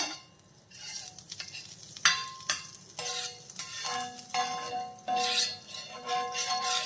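Butter sizzling in a heated nonstick pan, a soft steady crackle broken by clinks and scraping of a utensil against the pan, close by and with no talk.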